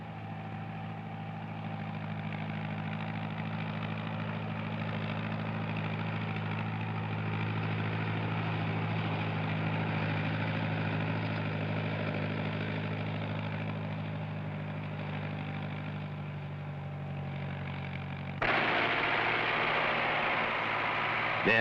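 Tractor pulling a four-row soybean planter across a large field, a steady droning engine hum that holds evenly for about eighteen seconds before shifting abruptly to a brighter, harsher tone.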